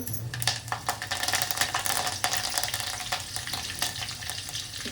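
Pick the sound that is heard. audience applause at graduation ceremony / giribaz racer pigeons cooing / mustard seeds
mustard seeds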